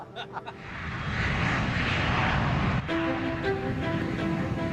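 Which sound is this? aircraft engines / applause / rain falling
aircraft engines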